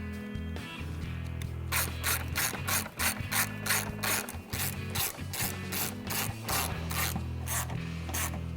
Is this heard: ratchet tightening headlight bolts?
yes